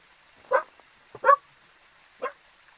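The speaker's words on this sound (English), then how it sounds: "Hey, no barking." A pet dog gives three short, sharp barks indoors, fairly close and spaced about a second apart, with quiet room tone between them.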